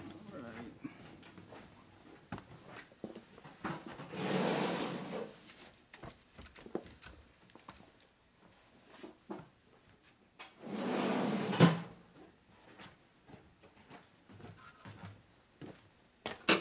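In a workshop, a drawer slides open and later shuts, two rough sliding bursts separated by several seconds amid quiet clicks, handling noise and faint room sounds.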